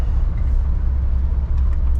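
A 1960 Ford F100 pickup with a new aluminum radiator runs steadily on the road, its low engine rumble loud and continuous throughout, with no gear-change break.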